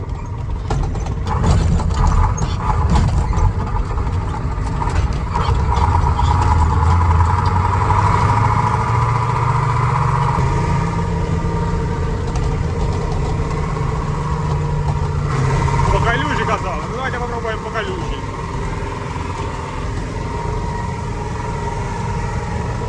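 Empty KamAZ truck rumbling along on the road, a steady loud diesel drone with the engine pitch rising and falling as it pulls, close to the cab throughout with no talking.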